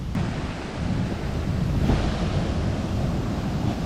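Sea waves surging onto an eroding coastline where the shore has been cut away up to a road, a steady close roar of surf with wind noise and no voices.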